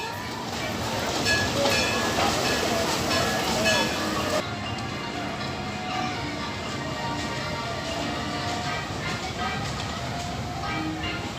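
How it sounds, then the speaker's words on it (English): Runaway Mine Train roller coaster at Alton Towers heard from off the ride: a continuous wash of rumbling track noise and crowd ambience, with people talking throughout and a shift in the mix partway through. "Runaway mine train there."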